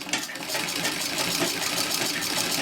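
A sewing machine top stitching the knife-edge binding of an Irish Chain quilt runs in a fast, steady mechanical whir, close and continuous, with no talking.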